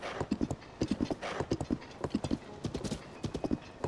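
Galloping horse hooves in Zelda: Tears of the Kingdom, a steady rapid clip-clop rhythm close up with a whinny mixed in, lasting throughout.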